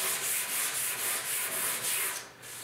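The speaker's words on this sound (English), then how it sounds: "I'm going to hit that with the palm sander" A palm sander works over the front fender of a 1972 Ford 4X4 shorty truck, a loud, close, rhythmic scratchy rasp that pulses in regular strokes and then eases off at the end.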